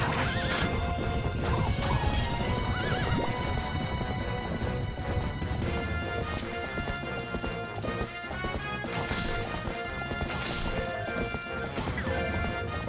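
Horses gallop in Zelda: Twilight Princess HD, hoofbeats pounding steadily under loud game music, with crashes, a whinny and other combat effects layered throughout.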